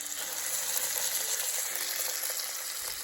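Chorizo sizzles and fries steadily in a greased pan, a continuous crackling hiss with faint scattered pops, close and even throughout, with no voices over it.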